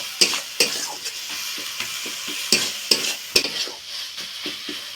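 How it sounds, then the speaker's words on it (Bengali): Spice masala is stir-fried in a pan for a pointed gourd (potol) dish, with a continuous sizzle under repeated spatula scrapes and clanks against the pan, close and fairly loud, and no voices. "এই মশলাটা আরও কিছুক্ষণ ভালোভাবে কষিয়ে নেব"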